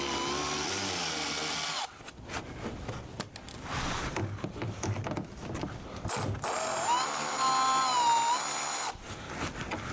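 A brand new brushless power drill drives screws on a car headlight, whirring in sustained close bursts that rise and stop, with brief gaps of clicking and handling between runs.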